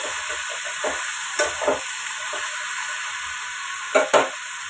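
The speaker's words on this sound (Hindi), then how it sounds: "अब इसे खूब अच्छे से चलाते हुए" Seasonal vegetables cooking in a pan on a home stove: a steady sizzle and hiss runs throughout while a spoon scrapes and stirs in short, irregular strokes, with a couple of louder clanks near the end.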